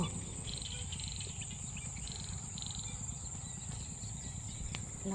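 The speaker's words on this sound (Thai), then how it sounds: "ได้ยินเสียงกบเขียดไหมคะ" Frogs call from rice fields at evening in Nakhon Nayok, Thailand, a steady pulsing chorus of repeated chirps that runs throughout and carries on from a distance.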